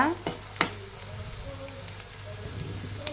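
Green chillies, onions and curry leaves fry for a chicken curry, giving a steady close sizzle like light rain, with a couple of sharp stirring clacks near the start and no talking.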